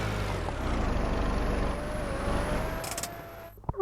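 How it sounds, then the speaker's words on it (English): A vehicle is crushed in the Roblox game Car Crushers: heavy engine-like rumble with a thin whining tone, bursts of crunching near the end, then sudden thuds as it stops. "my vehicle just got destroyed"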